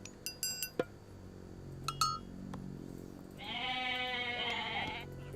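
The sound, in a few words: goats bleating in a video game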